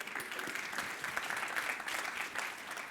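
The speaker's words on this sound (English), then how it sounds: "give yourselves a round of applause" Steady applause from a large audience at a corporate strategy presentation, a dense continuous patter of many hands clapping with no voices over it.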